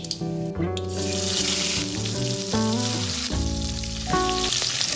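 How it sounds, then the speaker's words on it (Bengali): Bata fish fry in hot oil in a wok, giving a loud, continuous hissing sizzle under tuneful background music all the way through. "এবার এই তেলে আমি বাকি মাছগুলো দিয়ে দেব।"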